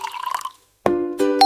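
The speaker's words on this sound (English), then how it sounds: "I pour." Liquid poured into a container in a kitchen, a brief trickle and drip after a short pause, with splashing filling that continues to the end and sounds close and clear.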